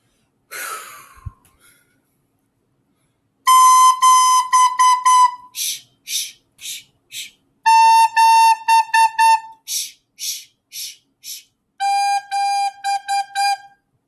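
A recorder plays a run of short, bright notes in three phrases, steady rhythmic tones stepping downward, loud and close with brief pauses between groups.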